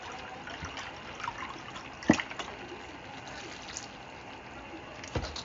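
Chicken broth poured into a measuring cup, a soft trickling and splashing liquid fill close by, fairly quiet, with a few light clinks.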